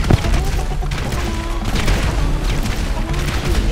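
Repeated bomb blasts in a multiplayer shooter video game, a dense run of loud booms and crashes over a continuous battle din with a voice faintly in the mix.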